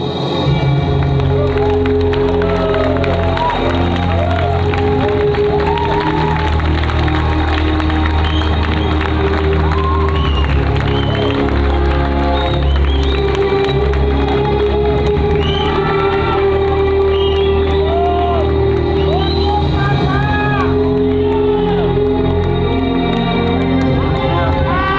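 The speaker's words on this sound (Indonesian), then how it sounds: "Tepuk tangan sekali lagi untuk teater mata." Theater audience applauding and cheering after a stage play at an arts festival, sustained crowd clapping with whoops and shouts filling the space for the whole stretch.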